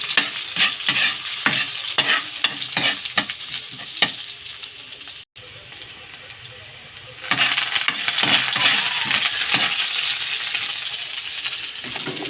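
Garlic and onion sautéing in a hot pan for monggo, a loud steady sizzle with repeated utensil stirring and scraping strokes, briefly cut off mid-clip, then sizzling harder after more ingredients go in.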